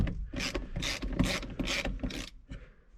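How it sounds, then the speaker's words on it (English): Ratchet loosening 12mm bolts under the center console of a Honda Civic, five or six rapid bursts of close, loud clicking in a quick back-and-forth rhythm. "you want to loosen up these 12mm bolts right here"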